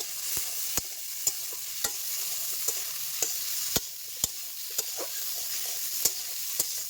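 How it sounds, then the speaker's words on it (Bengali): Cauliflower frying with turmeric and salt, an even, fairly quiet sizzle punctuated by regular sharp clicks of a spatula against the pan roughly every half second. "ফুলকপিগুলোকে ভেজে নেব। হলুদ গুঁড়ো দিয়ে দিচ্ছি একটুখানি লবণ, হালকা ভেজে নেব।"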